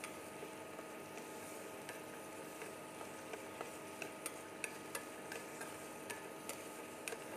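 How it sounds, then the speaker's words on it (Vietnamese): Peanuts being dry-roasted and stirred in a pan on the stove give faint, scattered clicks and light rattles over a soft, steady hiss, with no talking. "Ở bên đây thì mình đang rang đậu phộng."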